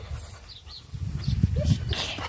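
A small dog playing with a ball, with soft thumps, scuffling and faint whimper-like noises up close, growing busier partway through, with brief quiet voice sounds.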